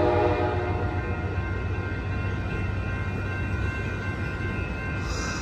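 Amtrak Coast Starlight Train #14, led by Heritage Unit #301, rumbles past a station with a heavy continuous roar and clatter of railcars while a loud sustained horn blares at the start.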